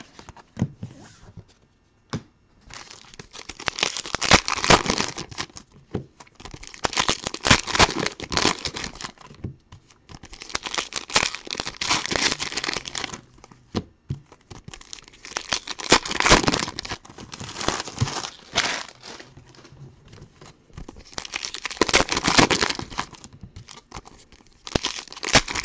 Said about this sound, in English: The worst part is just getting it out of the wrappers.